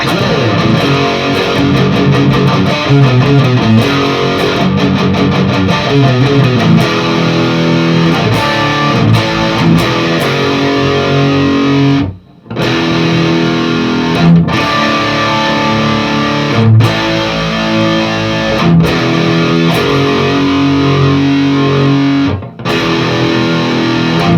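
Heavily distorted electric guitar strums a series of sustained chords, loud and continuous, with two brief pauses between phrases.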